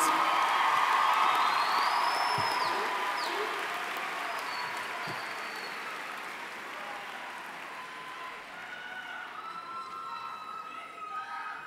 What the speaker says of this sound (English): please let's give another great applause to the Watkins Mill High School class of 2008